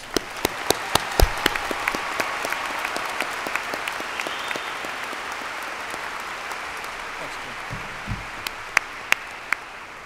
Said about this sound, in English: one final round of applause for all of our scholarship winners